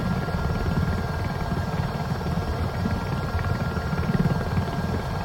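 Helicopter in Microsoft Flight Simulator 2024 climbing as the collective is raised, a steady loud rotor and turbine drone with dense low thumping that holds constant throughout, no voices.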